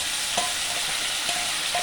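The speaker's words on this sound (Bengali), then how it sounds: "পেঁয়াজটা না দিতে ভুলে গেছিলাম, তাই এখন দিয়ে দিলাম, দিয়ে ভাজা ভাজা হয়ে যাবে আলুটার সাথে একদম" Chopped onion sizzles steadily in a pan alongside frying potatoes, with a dense continuous hiss and a few soft stirring scrapes, close and moderately loud with no voices.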